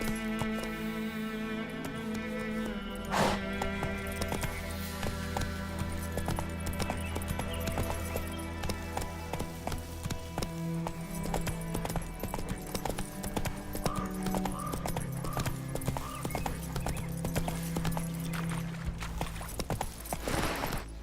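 Hooves clip-clop in a quick, steady rhythm as a horse gallops in The Witcher 3 video game, mixed with game music and an occasional snort or whinny.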